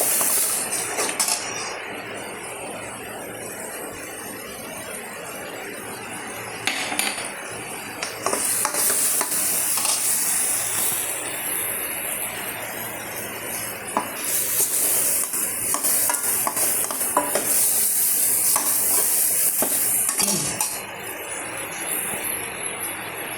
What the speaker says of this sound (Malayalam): നമുക്ക് ഇത്തിരി കുറച്ചേ ഉണ്ടാക്കുന്നു എന്നിട്ട് നമുക്കൊന്ന് അനത്തി ഇളക്കി കൊടുക്കാം